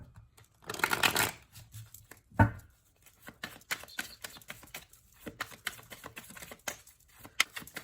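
Tarot cards are riffled and shuffled close up, with one loud dense burst early, then a sharp cut followed by lighter, scattered card flicks and taps.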